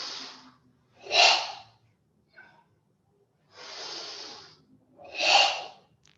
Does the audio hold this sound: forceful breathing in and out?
yes